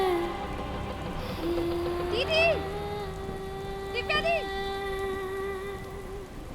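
Heavy rain hisses steadily across the whole scene while a woman calls out over it, with a sustained tonal drone in the background.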